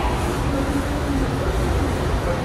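A steady, loud rumble of a subway train arriving at a platform at Akasaka Station on the Tokyo Metro Chiyoda Line, with a continuous low roar and no pauses.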